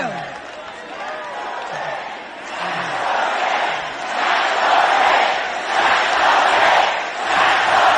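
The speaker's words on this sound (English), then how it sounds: "This crowd is fired up." Crowd at a political rally cheering and shouting, the roar swelling and holding loud for several seconds after a faint voice at the start, with cries and whoops rising above the general noise.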